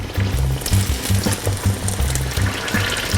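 A chicken chimichanga fries in hot oil, a steady loud sizzle and bubbling that goes on without a break. Soft pulsing churn runs underneath as the tongs turn the food.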